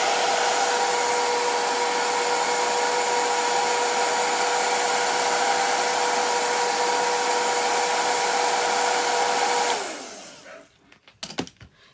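Hair dryer or heat tool blowing on chalk paste to dry it, a loud steady whir with a constant hum that runs alone for about ten seconds, then switches off, followed by a few faint clicks and handling noises.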